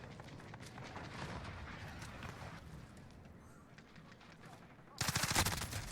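Gunfire in the shooter game Dropshot: rapid bursts of automatic shots and footsteps, moderately loud, ending in a sharper, louder volley.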